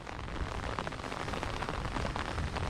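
Steady typhoon rain patters and hisses on a soaked farm field, a dense, even wash of droplets with no voices.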